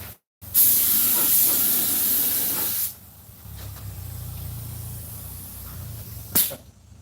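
A spray gun fires loud, steady hissing bursts during restoration of a 1950 Ford truck seat. A short burst is followed by a long spray of about two and a half seconds, a quieter stretch with a low hum, then one brief final blast.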